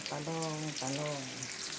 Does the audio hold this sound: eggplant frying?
yes